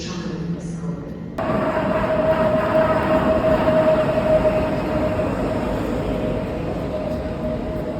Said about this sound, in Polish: Pociąg przyspiesza